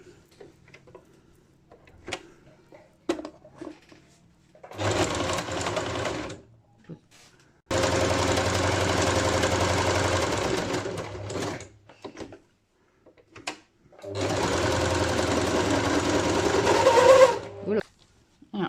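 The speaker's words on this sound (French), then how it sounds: "Je vais refaire un tour de couture tout autour là." Sewing machine running in three long bursts as it stitches around the edge of a fabric face mask, loud and steady, with quiet handling noises and pauses between the runs.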